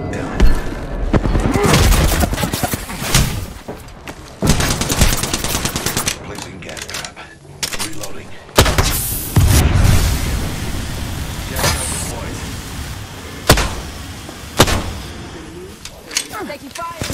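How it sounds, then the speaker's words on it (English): Loud automatic gunfire in Apex Legends: rapid machine-gun bursts and single heavy shots crackle in repeated clusters with booming impacts, and voices speak over the shooting. "Taking fire. Getting shot at."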